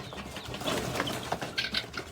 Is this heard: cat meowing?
no